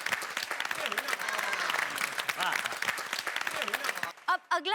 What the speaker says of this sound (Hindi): आप लोग अपने लिए जोरदार तालियां बजाएं।